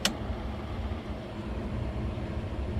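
A campervan air conditioner runs with its compressor not yet engaged, giving a steady low broadband whir and rumble that holds evenly throughout, with a brief brighter click right at the start.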